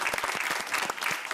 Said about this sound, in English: Round of applause for Enfer Jones.